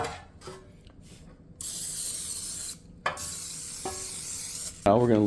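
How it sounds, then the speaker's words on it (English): Cooking spray hisses onto bread tins in several bursts of varying length, close and fairly quiet, with brief clicks of the can between sprays and a voice starting at the end. "First thing I'm gonna do is spray these really good."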